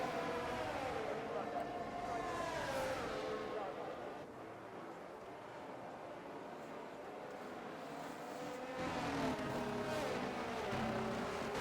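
Race cars in F1 22 accelerating at a safety car restart on the Italy round: several engine whines rise and fall in pitch, fading midway and surging again near the end, with commentators talking over them.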